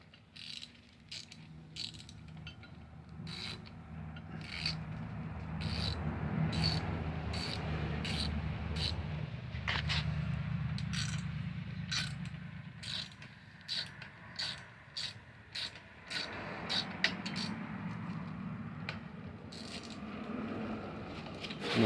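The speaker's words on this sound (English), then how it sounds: "these bolts are going to take a 5mm typical hex Allen head" Allen key ratcheting and clicking against 5mm hex bolts on a DK Customs chin spoiler air dam, a long series of sharp metallic ticks in uneven bursts over a low background rumble.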